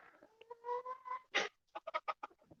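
Chickens cluck in a short burst of clipped, nasal calls, a few drawn-out notes followed by quick separate clucks, heard close but quietly.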